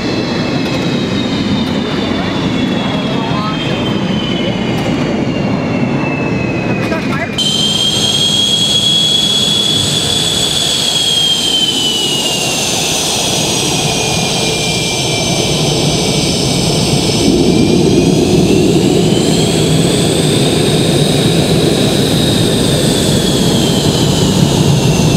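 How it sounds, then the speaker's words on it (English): CF-18 fighter jets arriving at the Canadian International Air Show at Pearson International, a loud continuous jet engine roar with a rising and falling whine that shifts pitch as the aircraft pass, steady throughout with no talking. "The CF-18 demo team will be performing every day an aerobatic routine, piloted by our very own Captain Eric O'Conn"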